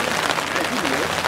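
Crowd at a Northbridge versus Greenwich football match breaking into steady, dense applause and cheering, sustained and fairly loud through the moment, with voices mixed in.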